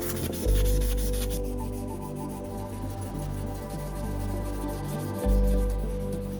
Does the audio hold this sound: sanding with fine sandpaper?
yes